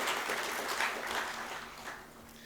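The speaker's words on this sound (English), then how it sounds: "I would like everyone to join me to give a round of applause to the members present here from the Kongu region" Applause from a business audience at a Coimbatore road show event, a steady crowd clapping throughout at moderate loudness with no talk over it.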